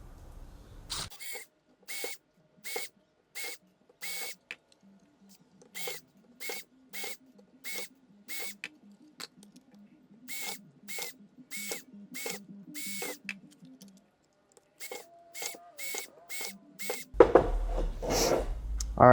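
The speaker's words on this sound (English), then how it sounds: "Put it up against some wood, and just go to town drilling." A drill bores rivet holes through Kydex held against wood, giving a series of short, sharp whirring bursts in a steady on-off rhythm with a faint hum between them, then a louder rustling handling noise at the end.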